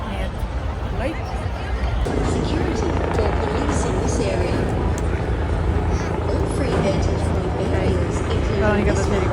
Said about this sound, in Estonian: Tal on igatahes helikopter.